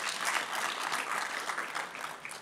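A panel audience applauds with steady clapping that fills the whole stretch at an even, moderate level before fading slightly at the end.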